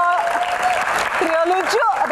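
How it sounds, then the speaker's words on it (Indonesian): A studio audience applauds for Ernest on a Q&A talk show, steady clapping running under a host's voice and some whooping throughout. "Tepuk tangan sekali lagi buat Ernest."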